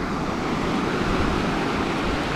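Rough sea surf breaks on a beach on Socotra Island, a dense, continuous roar of churning waves with wind, loud and close, with no voices.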